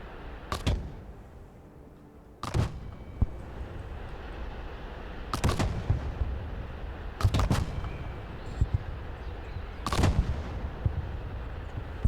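Artillery fire mission in the military strategy video game Broken Arrow: five heavy, booming shell blasts spaced a few seconds apart, loud and sharp against a steady rumbling battlefield background, with no talking.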